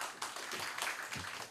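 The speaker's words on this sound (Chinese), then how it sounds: "我们现在就先以热烈的掌声来欢迎庄表伟给我们这个演讲" Conference audience applauding to welcome a speaker at an open-source software event, steady broadband clapping of moderate loudness filling the clip, fairly distant and even.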